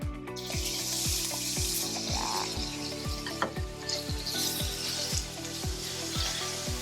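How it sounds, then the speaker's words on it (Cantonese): Meat sizzles loudly in a wok while a spatula scrapes and tosses it in quick, regular strokes, close up and without talking. "之後我哋就落肉。 爆一爆香啲肉先啊"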